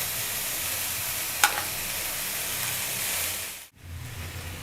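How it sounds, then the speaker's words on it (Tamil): Marinated tandoori chicken pieces sizzle steadily in a hot pan over medium flame, a continuous close frying hiss with a brief clink partway through and a short dip near the end. "இப்போ நம்ம மேரினேட் பண்ணி வச்ச சிக்கனை வந்து ஒவ்வொன்றா எடுத்து இதில் சேர்த்துடலாம்"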